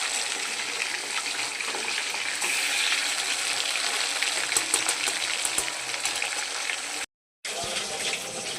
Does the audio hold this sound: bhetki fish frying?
yes